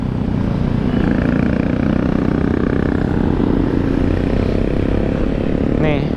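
Honda PCX150 scooter pulling away on light throttle, a steady low engine drone with road and wind rush throughout, continuous and close, with a faint rising whine near the end.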